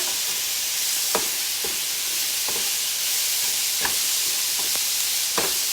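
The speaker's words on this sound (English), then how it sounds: "I'm going to add my meat back in and give it all a stir." Meat sizzles steadily in a hot pan over a constant frying hiss, with a few soft scraping stirs at irregular intervals, close and fairly loud with no talking.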